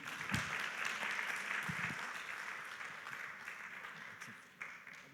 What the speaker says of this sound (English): A big round of applause for both the